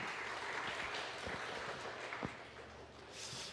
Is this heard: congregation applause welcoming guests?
yes